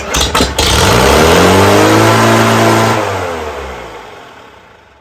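An IH Farmall Super A tractor engine cranks briefly, catches and runs loud and close for a few seconds at a steady pitch, then slows and fades as it dies down.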